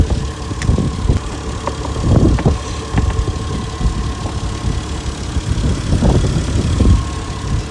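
A Toyota JZX100 drift build's engine idles steadily at close range, a continuous low rumble with faint irregular knocks and no voices.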